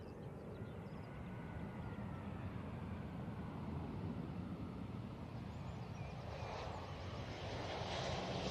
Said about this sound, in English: Here's that Easyjet.